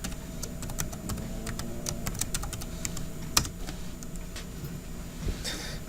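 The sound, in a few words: typing GitHub username and password on a computer keyboard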